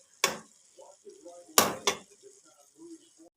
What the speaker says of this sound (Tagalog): ginisa ko nga pala itong pork giniling saka itong mixed vegetables guys